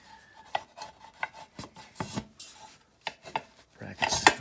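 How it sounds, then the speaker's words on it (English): Fender scraping and rubbing against a 1993 Honda Shadow 600 motorcycle frame while being slid on, a series of short close-up scrapes and knocks in an irregular rhythm. "that means just ever so slightly scraping your fender against the frame right here"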